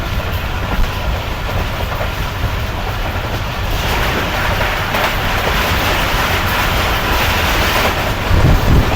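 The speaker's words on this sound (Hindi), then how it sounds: "ट्रेन आ रही है सामने से" An oncoming train passes close by a Shalimar Express ride in Pakistan: a loud, continuous rumble with rhythmic clickety-clack of wheels over rail joints, swelling slightly midway and holding steady to the end.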